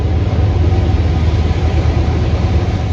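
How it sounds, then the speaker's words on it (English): A train rumbling past near a historic cemetery at Red Hill, a loud continuous low roar with a rushing, clattering texture held steady throughout, no voices over it. "There's a train going right up there."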